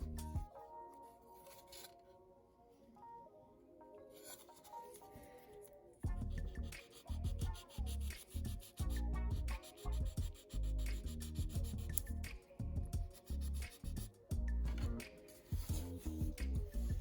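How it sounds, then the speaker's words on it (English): Quiet near-silence gives way to close, repeated scratchy rubbing strokes of a 600-grit sanding stick on a plastic model car body, rhythmic back-and-forth rasps with brief pauses. "I'm using the 600 grit and my sanding stick"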